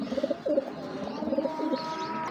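Close, repeated throaty coos of a racing pigeon in a rolling rhythm, fairly loud, with faint chirps near the end.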